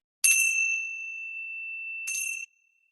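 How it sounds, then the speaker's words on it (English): Two clear, bright strikes of Tibetan bells used to call a group's attention, each a sharp metallic ding followed by a long pure ringing tone that sustains evenly until cut off, with no voices. "These are Tibetan bells."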